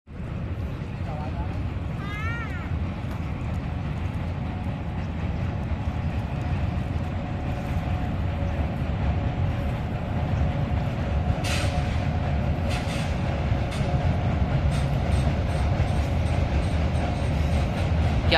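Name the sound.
train passing near a river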